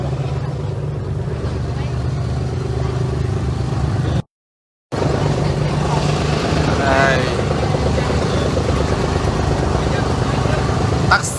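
A water taxi boat engine in Dubai drones steadily and close by throughout, with a brief dropout partway, and voices talk faintly over the motor.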